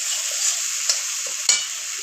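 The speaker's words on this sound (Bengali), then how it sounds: "এইভাবে মশলাটাকে ভালোভাবে কষিয়ে নিতে হবে তিন চার মিনিটের মতো হাই ফ্লেমে" Masala for a tilapia curry stir-fried over a high flame, making a constant bright sizzle with a couple of scraping stirs.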